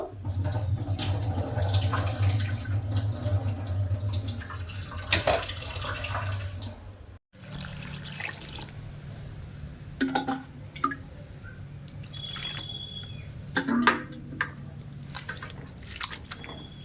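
Water is poured off potatoes in a bowl, then they are rinsed: running water splashes and trickles close by, with a short gap midway, then scattered drips, squishy handling noises and small splashes. No one speaks.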